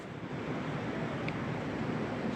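Steady rushing wash of a river flowing through downtown Waterloo, near a bridge, a continuous broadband roar with some wind buffeting and no speech.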